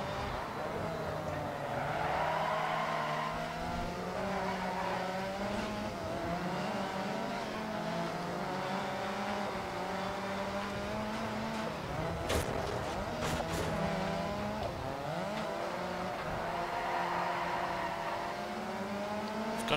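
Group B rally car in DiRT 4 rallycross, its engine revving steadily with rising and falling pitch through gear changes, loud and continuous with a brief burst of crunchy impacts midway and someone talking over it.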